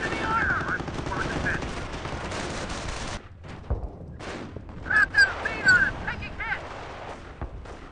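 Gunfire rattles in a Company of Heroes battle, dense bursts of machine-gun fire at first, then scattered shots and impacts with shouted soldier voices mixed in.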